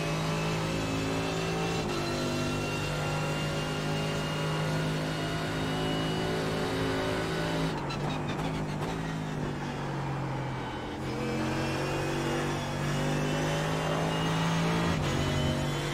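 A Mercedes GT3 race car engine drones at Monza in iRacing, a loud, steady high-revving tone with pitch dips and rises through gear changes and braking zones, continuous and close, with no talking.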